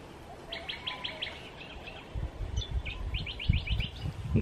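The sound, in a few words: birds chirping while eating banana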